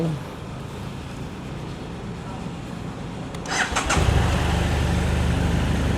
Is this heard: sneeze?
no